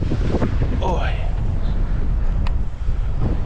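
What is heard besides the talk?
strong wind blowing on reservoir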